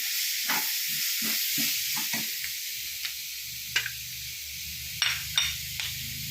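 Tomatoes fry and sizzle in a pan for chilli chicken while a spoon stirs them, with a steady soft hiss broken by scraping strokes and a few sharper clinks, close and without speech.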